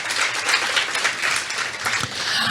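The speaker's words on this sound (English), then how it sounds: "Give a round of applause to yourselves for showing up for yourself." A conference audience at a women's business summit claps in a brief, dense burst of applause that carries on steadily for a couple of seconds.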